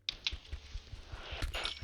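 Light, quiet clicking of computer keyboard keys in quick irregular taps, close and soft against a faint room hiss.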